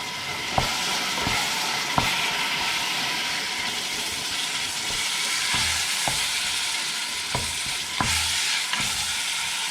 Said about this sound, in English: Make sure that pan is on high heat. You want them brown.